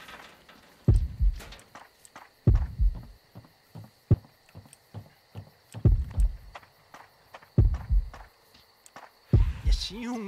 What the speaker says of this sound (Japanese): 心音が不気味すぎますね。